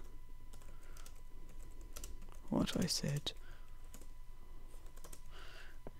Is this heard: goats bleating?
no